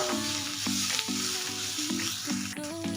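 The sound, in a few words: masala spices roasting in oil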